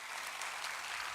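Steady applause from an audience at a ceremony, a dense even patter of many hands that holds for about a second, quiet and somewhat distant, with no voices over it.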